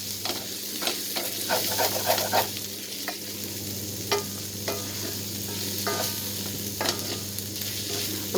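Onion and tomato sauté in a pan for a mutton roast, giving a constant soft sizzle broken by repeated scraping and stirring clicks from a utensil, close and fairly quiet, with no voices.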